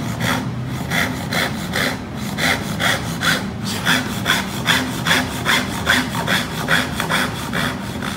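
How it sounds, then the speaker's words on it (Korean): A hand saw cuts through wood along a pencil line in steady, even back-and-forth strokes, close and clear, a rhythmic rasping of roughly two strokes per second with no talking. "이런 식으로 떨어져 나갈 자리에다가 톱들을 넣는 거죠."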